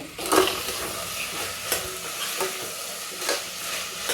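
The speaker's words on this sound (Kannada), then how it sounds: "ಚೆನ್ನಾಗಿ ಒಂದು ಇದನ್ನು ಎರಡು ನಿಮಿಷ ಫ್ರೈ ಮಾಡ್ಕೋಬೇಕು" Peas, fenugreek leaves and potato frying in a pan, a steady hiss of sizzling oil with a few scattered scraping stir strokes, close and moderately loud, with no one talking.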